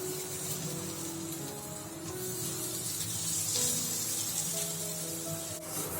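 Paneer pieces frying in a pan of hot oil for biryani, giving a steady, close, continuous sizzle and hiss with no pauses.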